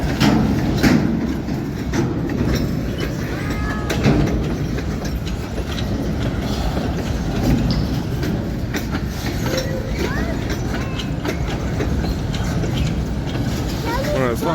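Freight train led by ELS locomotives 503 and 400, with grain hoppers and boxcars, rolls past close by, a loud, continuous rumble with steady clickety-clack of wheels on rail joints.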